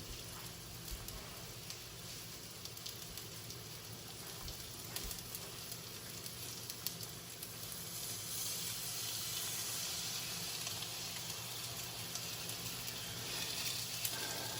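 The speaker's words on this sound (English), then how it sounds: "You want to hear that sizzle." Steady sizzling and crackling from a hot pan, a constant frying hiss that swells slightly toward the end, close and continuous.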